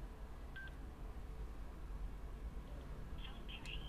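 A Parani motorcycle intercom gives short electronic pairing tones after its button is held down. A brief beep comes early, then a quick cluster of faint beeps near the end, over low background hum.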